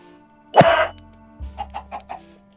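A modded video game chicken gives one loud harsh squawk, then a low thud and a rapid series of four or five short clucks, near and isolated with no voices.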